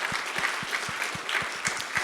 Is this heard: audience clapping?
yes